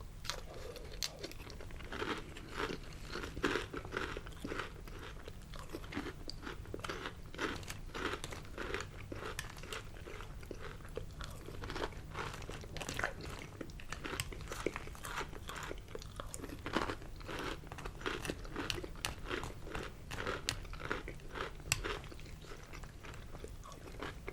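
Original-flavor Honeycomb cereal being eaten up close, a dense run of crisp crunches and chewing that keeps up steadily for over twenty seconds, no voice.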